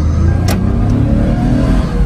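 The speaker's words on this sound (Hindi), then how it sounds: "अब इसका मैं हल्का गाड़ी को रेस दे देता हूँ" A 2006 Toyota Mark X with a 2.5-litre engine is revved lightly during a test drive, giving a close, steady, rumbling engine drone that holds throughout.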